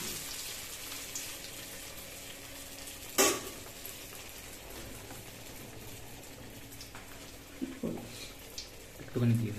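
Malpua batter sizzling in hot oil, a steady close frying hiss running throughout with a few sharper pops and clinks, while a voice talks over it.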